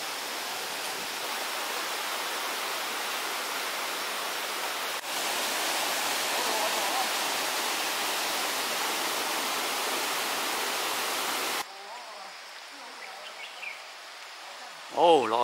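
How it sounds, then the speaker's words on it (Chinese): A waterfall and stream at Shing Mun Reservoir in Hong Kong rush in a dense, steady roar that dips noticeably quieter partway through, with faint sounds near the end. "水声嘘嘘啊！"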